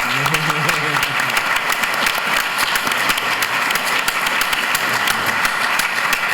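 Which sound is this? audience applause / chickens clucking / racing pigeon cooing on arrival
audience applause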